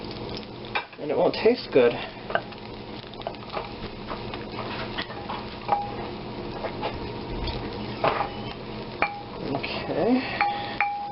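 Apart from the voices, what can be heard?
butter foaming in a hot pan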